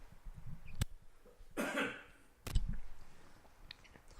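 A cough, with a throat-clearing quality, is captured on two podcast microphones in a quiet studio. It comes as one harsh burst mid-clip, with sharp clicks before and after and faint background between.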